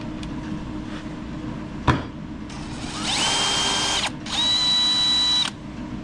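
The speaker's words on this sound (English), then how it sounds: "we're going to get that Phillips head screw out of the strap part." Power drill backing a painted Phillips head screw out of the strap of an old repurposed bellows hinge, a sharp click followed by two whining bursts of about a second each, close and loud.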